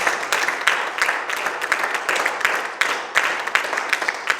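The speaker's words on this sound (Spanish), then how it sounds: "Fuerte el aplauso a la gloria de Dios." A church congregation claps loudly and continuously, a dense roomful of hands beating in uneven rhythm with a few sharper slaps standing out, close and sustained throughout.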